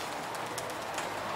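Pigeons coo softly in a breeding and racing pigeon loft in Kosakowo, Poland. Several low, rolling calls repeat faintly against a steady background hiss.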